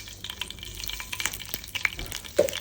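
Mustard seeds sputter and crackle in hot coconut oil in a home kitchen, a steady soft sizzle with scattered pops and a louder burst near the end, close and fairly quiet.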